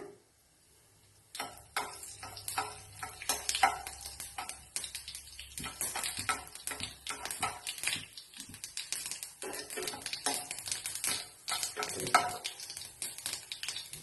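Tempering spices crackle and pop in hot oil, a near series of sharp, irregular ticks and spatters over a soft sizzle, starting after a short quiet lead-in and continuing steadily.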